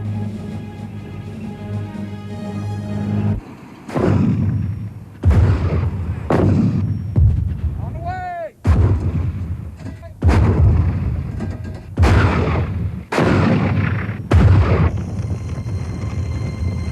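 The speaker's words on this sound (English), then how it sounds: "The hoses then detonate, exploding any mines buried under the sand." Mine-clearing hoses detonate in the sand, setting off buried mines in a war zone: a run of about eight heavy, booming blasts, each sharp onset followed by a rumbling decay, spaced a second or two apart over a steady background drone.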